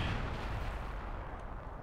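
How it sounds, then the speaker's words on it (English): Deep, rumbling boom of a German artillery gun firing in the World War II strategy game Company of Heroes 2, one low sustained blast fading out, heard alone. "Artillery gun from the German forces is taking shots at something around here"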